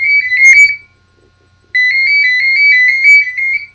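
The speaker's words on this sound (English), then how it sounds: "How can my house phone be ringing in the middle of my" A house phone rings loudly in two electronic trilling bursts separated by a short pause, with nothing else audible.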